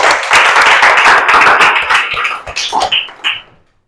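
Classroom pupils clap their hands in a burst of sharp, quick claps that thin out and trail off toward the end, fairly loud and close.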